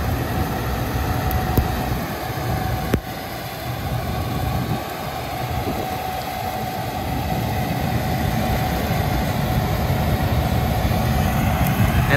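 A Gleaner S98 combine harvester runs in a field with its straw chopper spreading residue, giving a steady, loud mechanical drone with broadband rumble that holds evenly throughout, with no talking.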